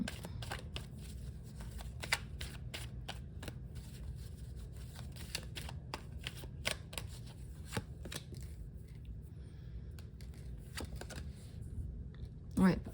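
Tarot cards are shuffled in repeated quick riffles and soft slaps, close and fairly quiet, running through the whole stretch while a person talks over them.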